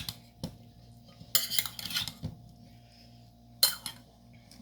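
Spoon clinking and scraping against a bowl while fried white chana chaat is tossed together, a few bright metallic clatters in bursts with quiet gaps between, close and fairly soft.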